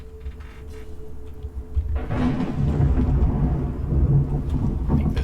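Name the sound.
thunderstorm outside a cave in the video game Skyrim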